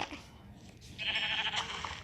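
A Minecraft sheep gives a short, thin bleat in the video game, fairly quiet, rising near the end over soft background noise.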